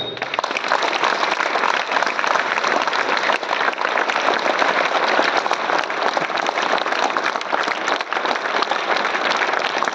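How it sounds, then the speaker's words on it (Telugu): Audience at a school assembly applauding for a farmer speaker, loud dense clapping from many hands sustained evenly for the full stretch. "సో అటువంటి రైతుకి ఒకసారి క్లాప్స్ చూడండి."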